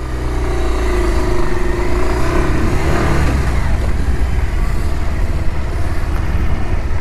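Motorcycle ridden on a rough, adventurous road, its engine droning loud and near throughout with steady revving and wind rumble.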